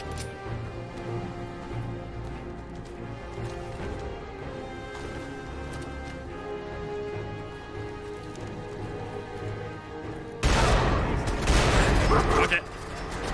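Auto pistol firing in the video game Fallout 4, a brief loud burst of rapid shots near the end, following a stretch of quieter game ambience, with no voices.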